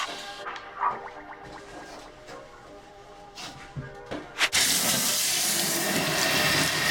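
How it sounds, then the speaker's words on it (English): Tap water rinses soap out of a turtle tank. Faint handling clatter comes first, then a loud, steady rush of running water close by. "You want to make sure you rinse it as thoroughly as you can."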